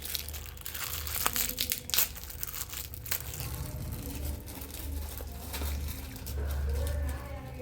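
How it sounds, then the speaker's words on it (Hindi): Someone tears open a cardboard box with their mouth, close up, with crinkling, crunching and ripping bursts over a low background hum. "इसको फाड़ना पड़ेगा, एक मिनट, मुंह से फाड़ रही हूँ।"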